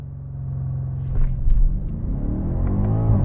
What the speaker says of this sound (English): That time I tried launching it manually.